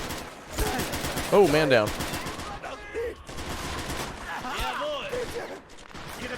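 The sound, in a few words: rifle gunfire at an AT gun, video game Men of War: Assault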